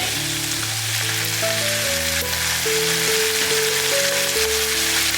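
Carrot and wood ear mushrooms stir-fry in a wok, a loud continuous sizzle with scraping stirs, while a steady melodic background tune plays throughout.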